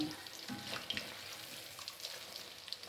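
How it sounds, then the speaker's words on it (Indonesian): Floured gourami fish frying in hot oil at home, giving a steady, dense crackling sizzle with small pops throughout, fairly close and with no voices. "gurame goreng tepung"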